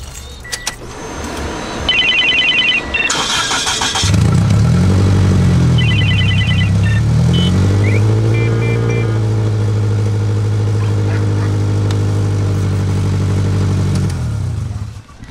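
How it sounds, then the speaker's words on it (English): A car engine running on E85 fuel cranks over and catches, then settles into a loud, steady idle that continues close by for most of the stretch, with a few faint electronic chimes early on. "Oh, you guys can hear me start up on E85."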